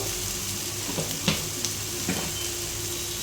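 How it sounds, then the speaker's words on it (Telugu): Fish sizzling steadily as it fries in a pan for a tamarind fish stew, a constant bright crackle with a few soft stirring clicks and knocks, close and alone without talk. "ఇవి ఫ్రై అవుతున్నాయి కదా"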